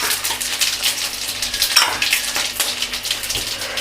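Mustard seeds, urad dal, fennel, cinnamon and cloves frying in hot oil for potato rice, a steady loud sizzle with crackling pops throughout, close up and without speech.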